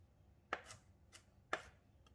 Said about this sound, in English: Chop the ginger into smaller pieces.